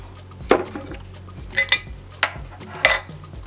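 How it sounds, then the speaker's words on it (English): A pint-sized glass jar is filled with dry coconut shreds in a kitchen, giving a few separate clinks and scrapes of glass and utensil, spaced irregularly with quiet rustling between them. "So I'm gonna fill up this pint-sized jar."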